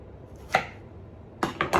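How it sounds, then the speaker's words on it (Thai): A knife cuts winter melon into long pieces on a cutting board, giving one sharp chop followed after a pause by three quick close thuds. There is no talking, only faint room quiet between strokes. "แล้วผ่าเป็นชิ้นแบบนี้เนี่ย ยาวๆ ไม่ต้องเล็กมากนะคะ"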